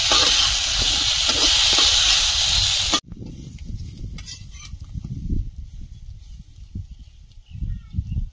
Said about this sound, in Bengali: আলুর সঙ্গে আরো একটু ভেজে নেব বেগুনটা ভালোভাবে।